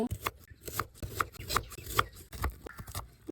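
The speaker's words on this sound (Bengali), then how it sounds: "বন্ধুরা এবার পেঁয়াজ কুচি কুচি করে নেব" A knife chops onion finely on a board in a home kitchen, making crisp, fairly regular taps about every half second, close by, with no talking.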